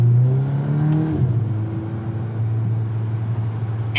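A 2022 Volkswagen Golf R MK8 with an MST Performance turbo intake idles nearby, a loud steady drone that dips after a brief whooshing rise and then settles into an even hum.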